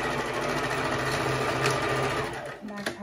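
A sewing machine stitching a face mask hums in fast, even needle beats close by, while a voice talks over it throughout.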